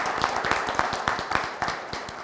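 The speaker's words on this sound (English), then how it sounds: "Let's give them a round of applause for all the great work." A small audience at a Pittsburgh event claps for young speakers, a thin run of rhythmic, fairly steady hand claps heard at moderate distance.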